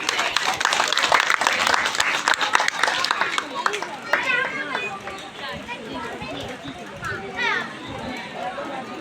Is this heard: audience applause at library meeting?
yes